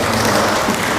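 Steady, dense audience applause fills an indoor parenting seminar on bridging the gap between parents and children, honoring a participant named Michelle. The clapping is loud, unbroken and close throughout, with no voices standing out.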